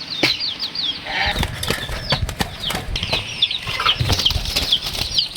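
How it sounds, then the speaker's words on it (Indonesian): Titiran doves flap their wings in flight near a remote rural home, repeated close bursts of fluttering, with chirping birdsong above and no talking. "Banyak burung titiran ya"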